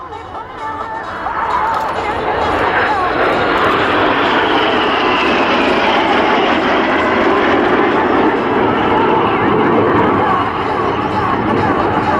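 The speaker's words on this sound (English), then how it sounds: "Reds 8 and 9 will match their formation underneath in the mirror pass" Red Arrows jets flying a mirror formation pass at an air show, a loud roaring jet rush that swells in and holds steady overhead before easing slightly, with a commentator talking over it.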